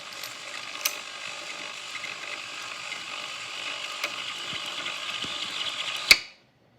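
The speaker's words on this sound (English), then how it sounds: "press the bobbin winding button to wind a little" An HD9 sewing machine winds its bobbin with a steady, even mechanical whir that rises slightly, then cuts off with a click as winding stops automatically.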